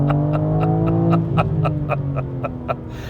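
BMW M3 CS accelerating hard, a steady rising engine drone with rhythmic pulsing, loud and close throughout, heard from inside the car with no talking.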